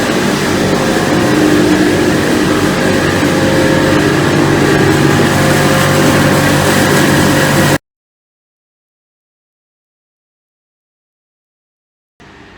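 Olive press machinery at a mill in Itamar, with a crusher and a lift dumping containers of olives, gives a loud, steady mechanical roar and rumble that stops abruptly partway through, leaving silence.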